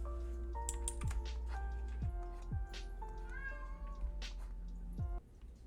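A house cat gives a few short meows, fairly close but soft, over steady computer keyboard typing and clicking, with faint music in the background.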